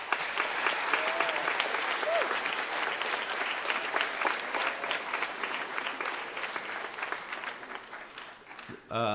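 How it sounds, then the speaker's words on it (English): Steady applause from a large audience fills the space for several seconds, then fades out toward the end. "give all the caregivers a big round of applause?"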